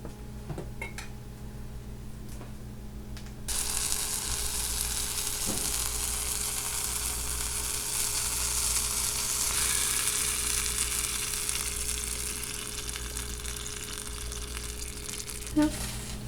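Ground beef and canned beans sizzle and fry steadily in a pan on a grill, a dense close hiss that swells and continues throughout, with a faint clink near the end and no talking.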